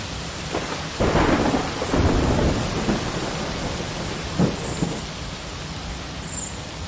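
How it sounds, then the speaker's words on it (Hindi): A thunderstorm with heavy rain pours loudly and continuously, with several deep rumbling thunder rolls breaking through the dense hiss of rainfall, no voices. "तूफान का कहर तो बढ़ता ही जा रहा है।"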